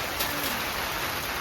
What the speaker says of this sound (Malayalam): ഓ നല്ല മഴ